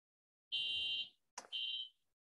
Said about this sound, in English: You see, we just got a fire alarm.